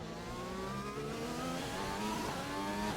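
Formula 1 car engine at Monza in F1 2020, a continuous high-pitched racing scream with rising revs and gear changes, loud and steady throughout with no talking.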